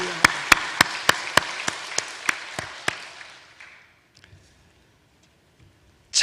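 Church congregation clapping together in unison at a Sunday service marking the 75th Liberation Day, about a dozen sharp, evenly spaced claps that gradually soften and fade into near silence.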